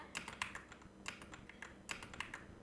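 Quiet, close typing on a computer keyboard: clusters of crisp key taps at an uneven rhythm with brief pauses between them, and no other sound.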